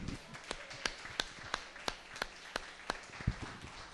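Scattered hand claps from a church congregation after a Portuguese-language sermon, a thin, uneven patter of separate claps rather than full applause, with several sharper claps standing out over a quiet room.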